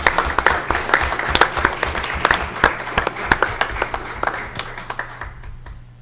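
Applause for a student at a school board meeting: a small indoor crowd claps steadily and fairly close, the sharp claps thinning out toward the end.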